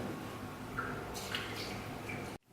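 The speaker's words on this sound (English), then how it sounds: "So the water is starting to boil now." Water in a cooking pot coming up to a boil for glutinous rice balls, a steady low bubbling and dripping wash with small liquid plops, fairly quiet and continuous before cutting out abruptly near the end.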